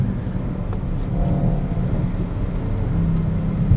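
An Audi RS6 C8 accelerates hard in second gear, heard from inside the cabin as a deep, steady engine rumble that swells slightly toward the end.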